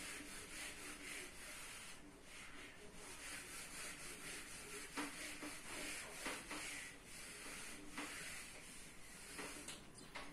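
Chalk or marker writing being rubbed off a classroom board during a maths lesson, a steady scraping swish with repeated strokes, moderately loud and continuous with no talk.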